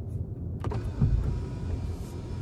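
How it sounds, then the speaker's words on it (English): Inside a 2024 Ram 2500 Limited Night Edition Mega Cab, the power sunroof opens with a faint low electric motor hum and a soft click, heard close and quiet in the cabin. "I'm gonna start opening the"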